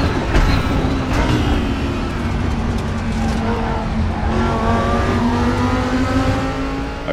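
GT2 race car engine in the RaceRoom racing game, a steady loud drone with rising harmonic lines as it accelerates through gears and holds revs, continuous throughout with no talk.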